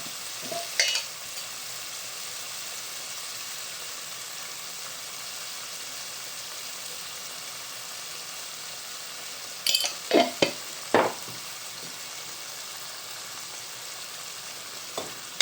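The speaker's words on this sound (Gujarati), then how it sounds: "બધાને આપણે મિક્સ કરી નાખવાનું." Ingredients for a black pomfret fish curry with raw mango are stirred in a pan over a steady sizzling hiss, with a few brief louder scrapes and clinks of the spoon near the start and toward the end.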